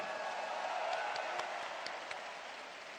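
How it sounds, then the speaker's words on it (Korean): Faint, steady applause from an audience at a Democratic Party primary results rally rolls on evenly for a few seconds, a distant wash of clapping with a few sharper claps standing out. "여러분 큰 박수 부탁드립니다."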